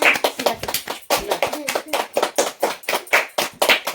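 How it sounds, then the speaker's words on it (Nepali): Rhythmic hand clapping at a family birthday celebration for a mother at home, sharp repeated claps in a steady beat with voices mixed in. "ताली।"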